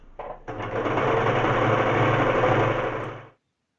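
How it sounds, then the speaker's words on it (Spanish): A serger-style sewing machine stitches along a fabric edge while trimming off the loose threads, a steady, close, fast mechanical whir starting after a brief burst and running for about three seconds before stopping abruptly. "Y a la vez que voy cosiendo, esta máquina me va cortando estos pelitos."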